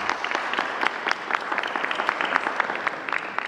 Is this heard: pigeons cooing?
no